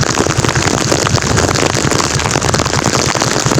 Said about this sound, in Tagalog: kaso lang nalubong ako ng malakas na ulan